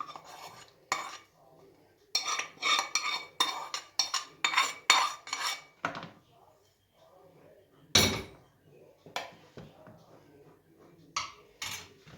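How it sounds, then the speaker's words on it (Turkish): A spoon stirs kısır bulgur salad with oil in a bowl, giving a run of quick scraping clinks in bursts with short pauses, close and clear, with a voice speaking softly. "Ve yağını da ekleyip karıştıracağız."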